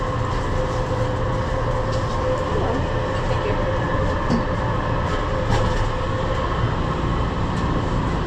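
Edmonton light rail train waiting at a station, continuous close rumble and hum of the railcar with faint clicks and rattles, no speech heard.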